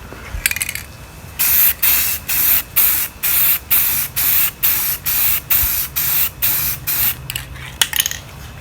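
Aerosol tint spray coats BMW E46 tail lights in a rapid series of short, loud hissing bursts of roughly half a second each, evenly spaced with brief gaps, close to the microphone.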